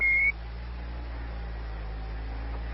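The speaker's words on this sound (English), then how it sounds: "Can you hear a master alarm in the background? That's O2 flow high coming through this amplifier." An Apollo 11 spacecraft master alarm, triggered by high O2 flow and relayed over a radio link, sounds as a brief steady tone at the start, then gives way to a constant hiss of radio static.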